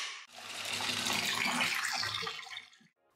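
Tap water runs steadily into a sink as a telescope tube is washed, a continuous splashing rush that starts abruptly and fades out near the end, no talking.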